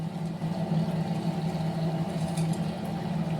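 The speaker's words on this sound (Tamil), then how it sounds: "அது மோட்ரு போட்டிருக்காங்க அதனால் வந்து நமக்கு சவுண்டு கேட்குது மோட்ரு சவுண்ட்" A motor runs steadily in a home kitchen while cauliflower Gobi Manchurian is being cooked, giving a constant droning hum that holds at an even loudness throughout with no talk over it.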